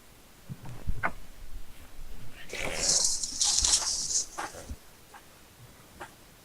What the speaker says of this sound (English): Is that a puppy?